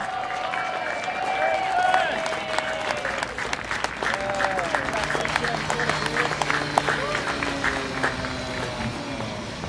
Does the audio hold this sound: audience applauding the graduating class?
yes